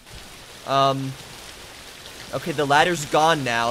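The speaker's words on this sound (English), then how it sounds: "Every window I go near increases the volume of the rain by like" Steady rain hisses near a window in the horror game The Caregiver, a constant wash beneath a man's speech.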